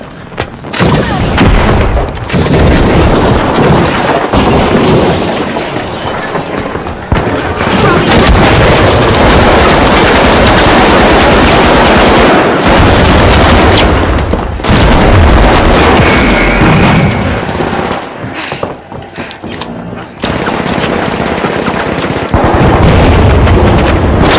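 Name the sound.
frag grenade exploding in the video game The Finals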